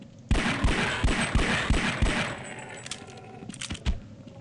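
Rapid pistol gunfire in Half-Life 2, a quick run of sharp shots at an even rhythm, then a short pause and a few more scattered shots, loud and close with no talk.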